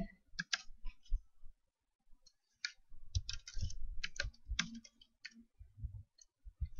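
Irregular bursts of clicking keystrokes on a computer keyboard while writing C code, close and fairly quiet, with short pauses between flurries of typing.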